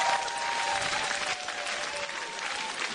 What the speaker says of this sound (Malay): Itu dia tepukan untuk Jihad